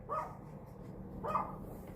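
A dog barks twice, moderately close but fairly soft, with a pause between the two barks, in an otherwise quiet indoor room.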